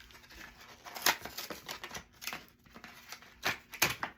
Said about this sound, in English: We're gonna crack open our new scissors.